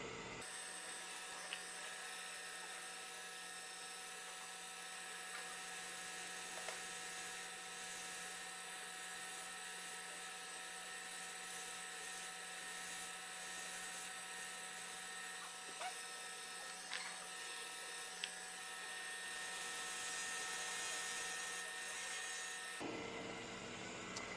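A wood lathe hums steadily as a tenon is cut on a finial, with faint scraping of the tool against the spinning wood and a few small clicks over a continuous, fairly quiet drone.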